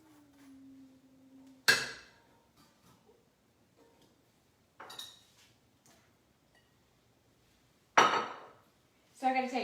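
A little butter is taken from a butter dish for cinnamon toast, producing a few sharp, separate clinks and taps of utensil against the dish, with quiet gaps between them.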